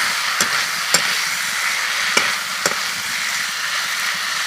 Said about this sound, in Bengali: এবার আমি ঢাকনাটা তুলে নেব আর সব কিছু নাড়াচাড়া করে নেব।